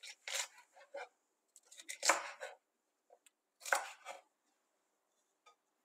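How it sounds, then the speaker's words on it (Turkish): Red and green peppers, one seeded kapya and one green village pepper, chopped coarsely with a knife on a board; short bursts of crisp cutting strokes in irregular clusters with pauses, close and moderately loud, no talk. "Onları da hemen çok iri olarak doğruyorum."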